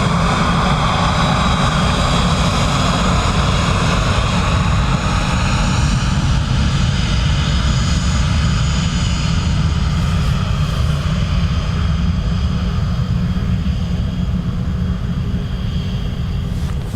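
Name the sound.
Ryanair airliner from Lisbon at Dublin Airport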